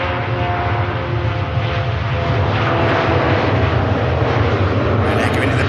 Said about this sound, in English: That was the Ryanair. Heading to Cologne.